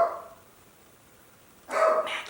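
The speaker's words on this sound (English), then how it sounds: "He has to bark." A dog barks at someone outside, one quick burst near the start and another louder burst of barks near the end, with a quiet room in between.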